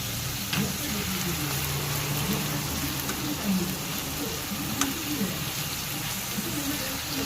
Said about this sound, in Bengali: তেজপাতা আর শুকনো লঙ্কা। এর মধ্যে আমি দিয়ে দিচ্ছি পেঁয়াজ কুচি